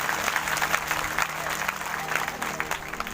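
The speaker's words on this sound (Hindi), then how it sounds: "एक जोरदार तालियां" A crowd claps at a Shrimad Bhagavat Katha religious gathering held on an open ground. The applause is sustained and lively, with individual claps standing out in a thick, continuous patter from many hands.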